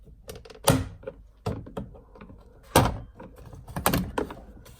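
Plastic trim piece being pried loose from a Ford F-150 door panel during rear window regulator repair, heard as several sharp knocks and clunks at irregular intervals, close and fairly loud.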